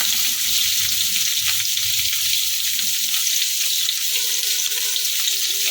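Potatoes frying with green chilies in a pan for Bengali aloo ghugni, a steady close sizzle filling the whole stretch, with faint clinks of stirring toward the end and no talking.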